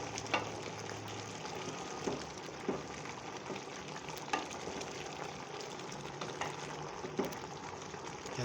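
Sweet potatoes cooking in a pan with coconut cream give a steady, close sizzle and bubble with occasional soft clicks and stirring knocks, and no talking over it.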